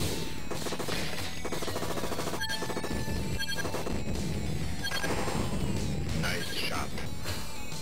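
Gunfire crackles through the 1991 Midway Terminator 2: Judgment Day arcade cabinet, fast repeated shots with crashes and explosions layered over constant game music, while a player talks over it.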